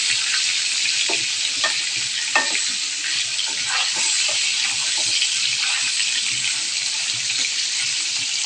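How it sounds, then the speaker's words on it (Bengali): Fish sizzling as it fries in a pan, a steady dense crackle with scattered clicks and scrapes from turning and stirring, close up and with no voices. "মাছগুলো হবার জন্য আমি ভাজতে দিলাম"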